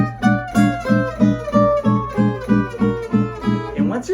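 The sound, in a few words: gypsy jazz guitar rhythm, all downstrokes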